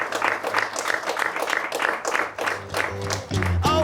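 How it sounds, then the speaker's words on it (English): Audience applause rings out at a show, with clustered rhythmic claps for most of the stretch. Toward the end, tonal music begins to swell in under and over the clapping. "Please, everyone, one more round of applause for Pearl, who is so brave to come and talk to us."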